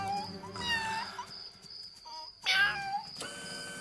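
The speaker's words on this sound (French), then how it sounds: "ce n'était qu'un chat" A cat meows in a few drawn-out, wavering cries with a quiet pause between them, fairly close, in a cartoon scene.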